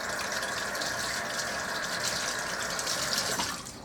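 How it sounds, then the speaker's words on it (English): A kitchen tap runs steadily while hands are rinsed under it during pork roast preparation, giving a continuous close hiss of splashing water that drops away just before the end. "Let me rinse my hands real quick."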